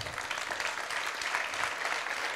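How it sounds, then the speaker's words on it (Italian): An audience at an Italian awards evening applauds steadily, a dense, even wash of clapping with no voices on top. "davvero meriti questo grandissimo applauso"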